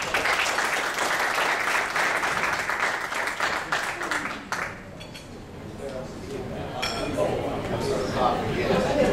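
A room full of people applauding after a presentation, dense clapping that stays loud for about four seconds and then tapers into scattered claps amid murmuring chatter.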